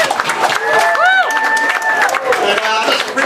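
Event audience breaking into a round of applause, brisk clapping mixed with rising whistles and cheers from the crowd, fairly loud and close.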